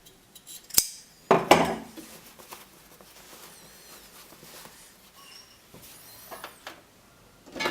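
Scissors snip through trouser fabric in a few sharp, close metallic cuts early on, followed by quieter rustling and handling sounds, with no speech.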